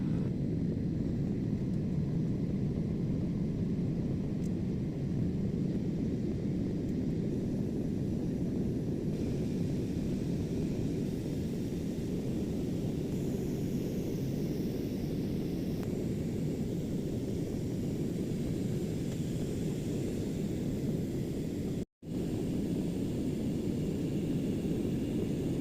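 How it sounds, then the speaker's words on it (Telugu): Steady broadband roar of an airplane cabin in flight after takeoff, a constant engine and airflow rumble that stays even throughout, with a brief dropout near the end. "నేల నుండి విమానం ఆకాశంలోకి ఎగురుతున్నప్పుడు ఇల్లులు చూడండి ఎంత చిన్న చిన్నగా"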